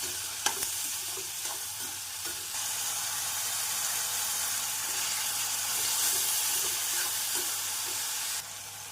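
Steady, dense sizzling of onions frying in a pan with curry leaves and green chillies, with occasional stirring scrapes and soft clicks, no voices.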